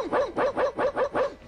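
A dog barks six times in quick, even succession, loud and close, each bark a short yelping burst.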